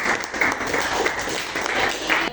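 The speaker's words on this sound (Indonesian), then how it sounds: "Kasih tepuk tangannya untuk kawan" A classroom breaks into a short burst of applause, many hands clapping quickly and fairly close for a couple of seconds, with no talk heard over it.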